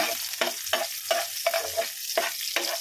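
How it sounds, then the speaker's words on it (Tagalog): Garlic and onion sautéing in a modest amount of cooking oil, with a steady sizzle and about seven rhythmic scraping stirs of a utensil against the pan, close and clear with no talk. "start na po tayo mag-gisa"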